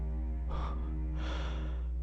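Two heavy, ragged panting breaths from a soldier in a horror radio drama, close and rasping, set over a low steady hum with no talking.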